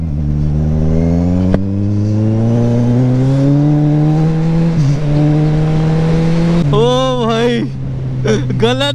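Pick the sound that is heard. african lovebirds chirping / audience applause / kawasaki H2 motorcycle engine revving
kawasaki H2 motorcycle engine revving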